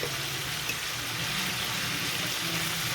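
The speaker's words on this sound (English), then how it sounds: "You can hear the sizzling, and also you could smell it." Steady sizzling and crackling of chicken frying in a hot pan, a constant hiss close by with no one talking.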